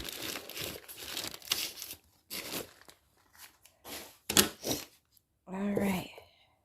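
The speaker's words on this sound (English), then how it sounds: "Cut the top of the bag off so that I can save what's in here." A plastic bag of natural soap colorant crinkled and cut open with scissors, bursts of close, loud crumpling and crackling plastic with short snips in between, and a voice speaking near the end.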